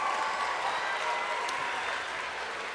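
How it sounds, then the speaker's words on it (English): Crowd applause at a middle school assembly, a dense steady wash of clapping from many hands that fades slightly over a few seconds. "Give them both a big round of applause."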